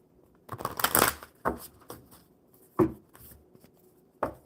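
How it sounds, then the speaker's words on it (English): Playing cards are shuffled by hand on a live stream: a burst of riffling and flicks, then a few separate sharp snaps and taps spaced across several seconds, close and fairly quiet, with no talk. "One more good shuffle, Stacy."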